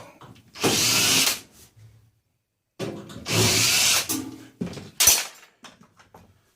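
A power drill backs screws out of an electric clothes dryer that is being scrapped. There are two sustained whirring bursts, then shorter spurts with clanks of metal panel handling in between.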